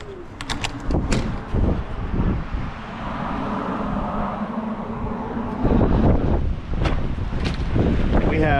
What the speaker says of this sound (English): 25 to 35 mile an hour winds, 50 mile an hour gusts today.